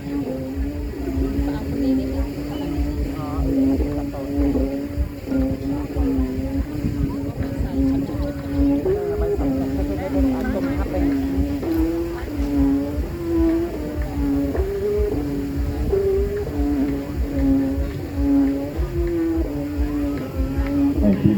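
A humming Thai kite bow (aek) drones with a wavering, steady tone at an outdoor kite and balloon festival competition, continuous through the whole stretch.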